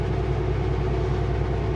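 A train rolls along a railway track near a parked vehicle, giving a steady, loud low rumble with constant rail noise throughout and no voices.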